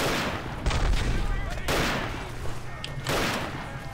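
Artillery and gunfire in the World War I shooter Verdun 1914-1918, heavy booming impacts and bursts of rifle fire in three loud waves with crackling shots between them, voices faintly mixed in.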